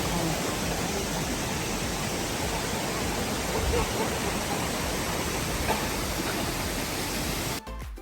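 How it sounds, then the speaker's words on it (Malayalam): Aber Falls in Snowdonia National Park, North Wales, pours down in a steady, loud, broadband roar of rushing water that holds unbroken for about seven and a half seconds, then cuts off abruptly. "അപ്പൊ നമുക്ക് കേൾക്കാം, നല്ല വെള്ളത്തിന്റെ ശബ്ദം നമുക്ക് കേൾക്കാം."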